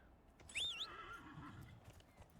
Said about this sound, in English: I have a horse. Let's ride the horse.